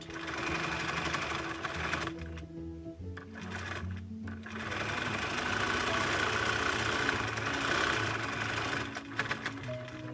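A sewing machine top stitching the lining of a lined drawstring bag runs in a fast, steady mechanical whir, pausing briefly twice before resuming, close and clear with no talk.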